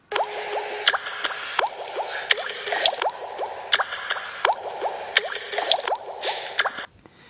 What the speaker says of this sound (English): Dropping water, cool water drops.